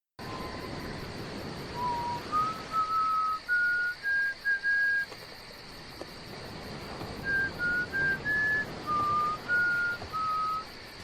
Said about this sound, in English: It's whistling "Oh Christmas Tree," but you know what it is.